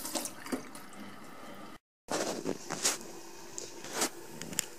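Water rinsing metal polish off a small 3D printed Stirling engine part: steady running splash and trickle with irregular drips, a brief silent gap in the middle, no voices.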